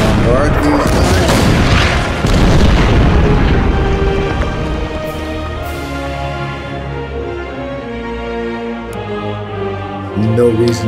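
Artillery bombardment in the WW2 strategy game Order of Battle, Red Star campaign: heavy, rumbling booms crowd the first few seconds, then fade into sustained tonal sound.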